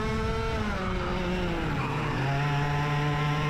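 Racing karts take a corner on a track, with a loud, constant engine buzz whose pitch sweeps down and then holds steady as the revs change through the turn.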